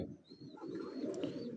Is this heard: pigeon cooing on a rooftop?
yes